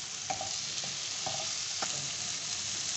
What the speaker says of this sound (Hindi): मैं इसे तकरीबन 3 मिनट तक इसे अच्छे से फ्राई करूंगी